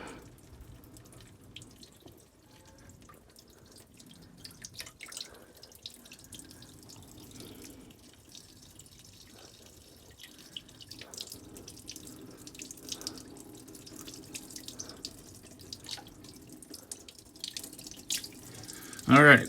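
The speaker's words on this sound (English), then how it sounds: "let some water drain out of there" Water drains from a Volvo Penta V6-240 marine engine as a soft, steady trickle and drips, faint and close, with small clinks and a louder knock at the end.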